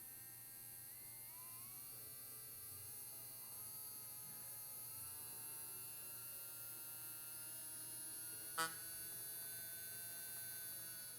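A small electric mixer whirs in paint with a continuous, steady buzzing hum and one brief click near the end, close and fairly quiet, with no talking.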